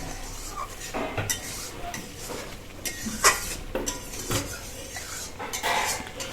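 Spicy soybean curry with whole garlic being stirred in a pan: a spoon clanks and scrapes against the metal in uneven bursts, close by, with a little sizzle and no speech.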